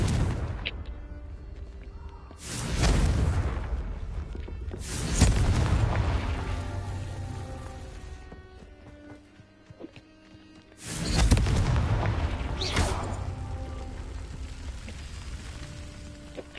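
Blasts from the Confringo spell in a Harry Potter video game go off as heavy booming explosions, three big bursts spaced several seconds apart, each rolling off into a decaying rumble.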